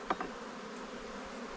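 Honey bees buzzing at an opened hive during an inspection, a low steady drone throughout with a couple of faint louder passes near the start.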